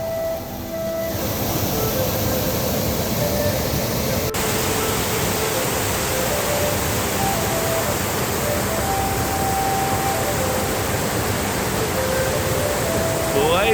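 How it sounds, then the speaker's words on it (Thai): Strongly flowing water at Phrom Lok waterfall, a dense, steady rushing roar that holds evenly throughout, fairly loud and close, with no talk over it. "นี้น้ำไหลมาจากน้ำตกพรม โลกนะครับน้ำตกพรมโลก"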